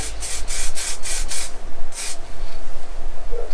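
Clear lacquer is sprayed from a can onto wooden bandsaw boxes in a rhythm of short, close hissing bursts, five in quick succession and then one more after a pause, over a low background hum.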